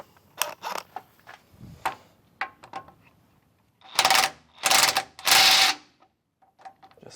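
A wrench works a stubborn bolt on an airlift bumper being fitted to an M1123 Humvee, producing irregular creaking and clicking strokes, then three loud, close grinding bursts.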